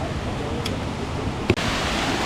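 Continuous roaring rush of a waterfall, loud and even, with a brief knock or thump near the end.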